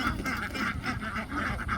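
A flock of ducks at a duck farm quacks continuously, many overlapping nasal calls in a busy, rhythmic chorus nearby.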